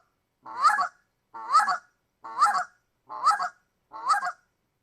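A hunter's goose call imitates two geese clucking: five evenly spaced honking clucks, each about half a second long, loud and close with no talk.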